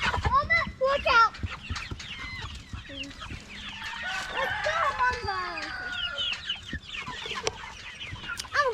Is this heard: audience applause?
no